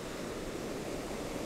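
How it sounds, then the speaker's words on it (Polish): Ocean surf on a long beach at Puerto Escondido, Mexico, where huge waves collapse onto each other and churn. A steady, dense roar of breaking water fills the whole stretch without pause, with no voices over it. "one się załamują na sobie i przez to powstaje taka ogromna fala, kotłująca się wręcz"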